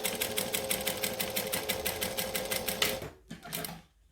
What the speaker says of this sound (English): So I'm going to stitch, stitch, and then I'm going to go back through that first hole as like an alternative to back